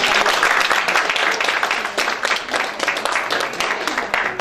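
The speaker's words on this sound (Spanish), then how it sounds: "le damos bienvenida al Espíritu Santo con un fuerte aplauso" A church congregation at a Spanish-language service breaks into loud, sustained applause, a thick wash of many hands clapping that swells and eases slightly with some voices mixed in.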